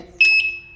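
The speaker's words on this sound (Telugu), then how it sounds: "వేసినప్పుడు ఈ విధమైన సౌండ్ వచ్చిందంటే మనం అలారం లాక్ వేసి వెళ్తున్నామని అర్థం" An alarm lock gives a single short, clear electronic beep as it is locked. The beep is close and slightly rising, then fades quickly into quiet.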